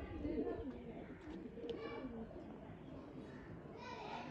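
Low, soft cooing of pigeons bred for kabootar bazi (pigeon flying) murmurs close by amid a busy background with faint voices and children's chatter.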